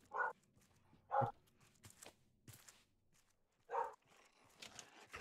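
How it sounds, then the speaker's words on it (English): A dog barks three times, sharp and moderately close, with irregular pauses between, over quiet background shuffling. "Is my mic catching Jack's barking"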